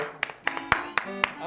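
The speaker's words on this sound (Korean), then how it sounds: "박수." A small crowd applauds in a few scattered, uneven bursts of clapping over a short span, with a voice murmuring faintly underneath.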